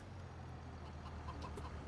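Chickens in the farming video game Farming Simulator 25 cluck faintly in short scattered calls over a steady low hum of game background noise.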